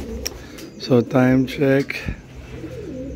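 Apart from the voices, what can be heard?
pet birds cooing during night feeding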